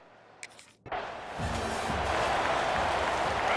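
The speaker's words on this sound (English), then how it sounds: "This crowd still bringing the intensity to open the second half." A crowd in an American football video game roars, rising abruptly into a dense, sustained wash of cheering and applause that stays loud to the end. A brief low voice is heard near the start.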